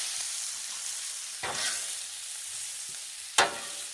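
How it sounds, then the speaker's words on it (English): Sausage, onions and peppers sizzle on a Blackstone griddle in a steady close hiss, with two sharper scraping bursts from a spatula and no talking. "Let the sausage cook a little."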